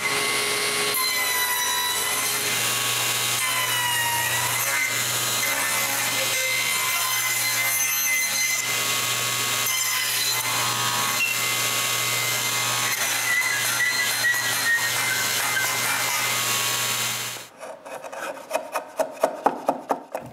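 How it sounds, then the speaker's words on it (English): A router cuts wood mortises with a jig, keeping up a loud continuous whine with gritty rasping as it nibbles the wood. It stops abruptly near the end, followed by a few sharp knocks and scrapes. "When it's adjusted, I can cut the mortises, starting with both interior cheeks, and then remove the rest by nibbling the wood in between."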